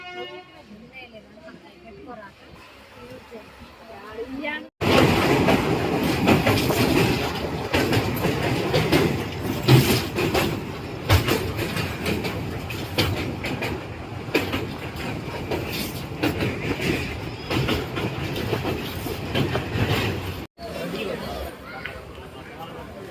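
A crowded passenger train during the Sankranti festival rumbles along the rails near Nalgonda, heard from inside the carriage, with a loud, continuous clatter and rattle. Passengers talk in a steady background babble.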